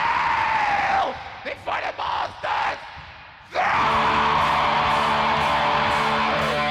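Black metal screaming vocals from a recording, loud, harsh and sustained, broken by a short gap of choppy bursts before the scream returns over the dense band sound.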